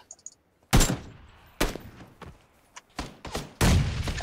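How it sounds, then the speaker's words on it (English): Gunfire in a squad-based shooter video game: several sharp bursts of shots, separated by short pauses, ring out loud and close, with a few lighter thuds between them. "I opened up fire."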